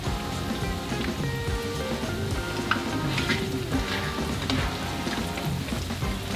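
Crab cakes fry in a hot pan, a dense steady sizzle and crackle of oil with scattered pops, close and continuous throughout.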